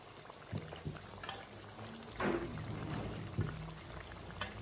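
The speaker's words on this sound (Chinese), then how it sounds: "油温高，我们可以往里面加入一点冷油。" Cold oil poured into hot frying oil while making fried sugar cakes, a soft steady sizzle and bubbling with a few splashy pops, fairly faint and close.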